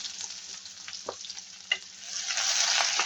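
Finely chopped onion is added to a pan of hot oil with dried red chillies, bay leaf, cumin and mustard seeds. It gives a soft sizzle that swells into a louder, steady frying hiss, with a few stirring clicks and no voices.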